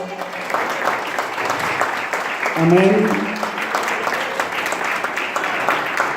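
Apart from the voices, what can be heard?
congregation applauding in church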